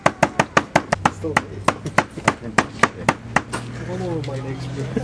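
Squid (chokka) being beaten to soften it for fishing bait, a run of about eighteen sharp, evenly spaced thumps close by, followed by a steady low hum with some murmuring.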